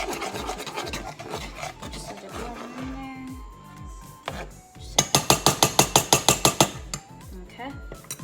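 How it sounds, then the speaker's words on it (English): Utensils scraping and clinking in a bowl or pan while salt and pepper are mixed into food, a busy rasping stir with a run of sharp rhythmic taps near the end. "I'm just gonna mix it around just a little bit just to blend it in there"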